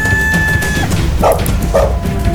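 Two short dog barks sound a moment apart, set against a steady, loud background hiss with faint sustained tones.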